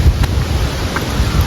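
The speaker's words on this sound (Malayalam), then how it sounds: "നല്ല ശക്തമായ കാറ്റടിക്കുന്നുണ്ട്." Strong wind roars steadily through a forest on a walking trail, a loud continuous low rumbling gust with buffeting on the microphone throughout, no voices.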